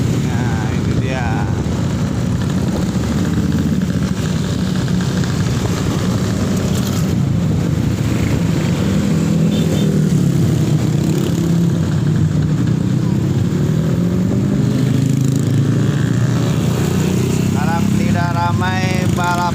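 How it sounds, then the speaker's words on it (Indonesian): Motorcycles race along a road, a loud constant engine roar with wind buffeting, and a voice speaks over the noise. "Ramai balap-balapan motor."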